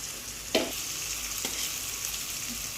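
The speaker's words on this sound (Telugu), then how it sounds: "ఆనియన్స్ కొంచెం బాగా ఫ్రై అవ్వడానికి పసుపు కొంచెం వేసుకోవాలి" Onions fry with turmeric and salt in a pan, an even close sizzle with a couple of faint stirring knocks, no speech.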